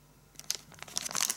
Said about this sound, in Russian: Приманки поставляются вот в таком вот пакетике.